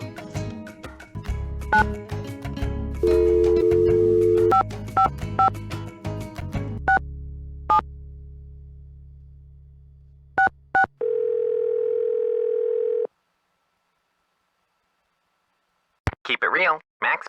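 A steady dial tone hums alongside rapid keypad dialing beeps on a telephone in the Nancy Drew game The Secret of the Scarlet Hand, with a recorded voice message before a clean, isolated tone.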